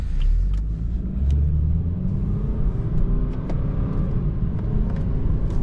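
A 2014 BMW 428i xDrive coupe with an 8-speed automatic transmission drives along, its engine giving a steady low rumble under constant road noise, close and moderately loud throughout, with no talk.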